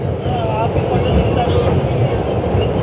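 A train rumbles steadily across the Pamban bridge at Rameswaram with a dense, low rattling roar, while faint voices come through over the noise.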